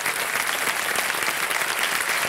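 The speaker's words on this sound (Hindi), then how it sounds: "तालियां बज जाए इनके लिए।" A studio audience on a televised quiz show breaks into steady, dense applause that holds loud and unbroken from start to finish, with no voices rising above it.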